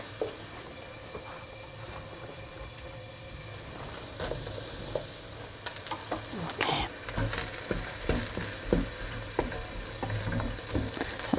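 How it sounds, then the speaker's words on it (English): Chopped aubergine fries in olive oil in a pan with a steady, close sizzle that grows louder and busier halfway through, broken by clinks and scrapes of stirring. "putting the chopped aubergine, eggplant, into the olive oil I've got in here. We fry these off for 5 minutes."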